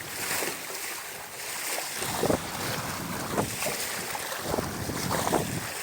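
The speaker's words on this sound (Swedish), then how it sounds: "Här kommer vinden alldeles strax." Wind roars and buffets the microphone on a fast-moving sailboat, a constant loud rush mixed with water noise and occasional gusting surges, with no talking.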